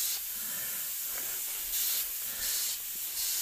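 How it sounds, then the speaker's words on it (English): An aerosol spray paint can sprays mint green paint onto a skull craft piece in loud hissing bursts, several separate sprays in a row with short pauses between them. "So I'm going to start spraying this kind of minty color."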